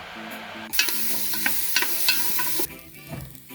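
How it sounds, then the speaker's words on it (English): Onions and garlic sauté in olive oil in a soup pot: a bright burst of sizzling starts suddenly, with stirring scrapes and clinks, then cuts off sharply to a quieter simmer. "you're going to saute the onions and garlic first"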